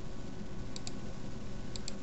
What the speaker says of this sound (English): So you may hear some clicking.